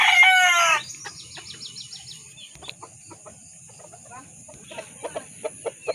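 A rooster crows loudly at the start, followed by quieter clucking and scattered chirps from fowl nearby.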